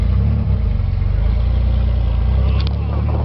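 Car rolling over an old American Bridge Company bridge in New Haven, its engine a steady low drone up close with a faint rattling clatter near the end.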